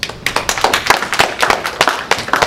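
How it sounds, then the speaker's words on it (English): Audience clapping for a performer being brought on stage: a short, loose patter of hand claps at moderate volume, with no talking over it. "Let's give Brother a round of applause"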